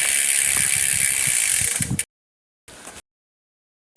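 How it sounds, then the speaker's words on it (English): A bicycle derailleur clicks and ratchets as the chain shifts onto the small rear cog, a short mechanical whir cut off abruptly, then a brief burst of ratcheting after a pause. "Get your chain shifted to the small cog."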